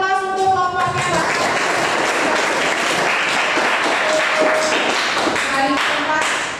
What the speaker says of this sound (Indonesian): Kita berikan aplaus untuk kelompoknya, Pak.